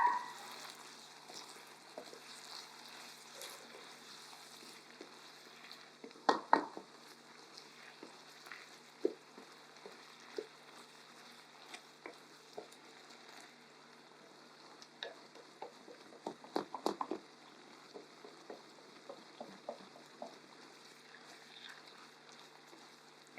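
Thit Kho, Vietnamese braised pork, is stirred in a pot while it browns, giving a soft steady sizzle broken by a few short scraping clatters.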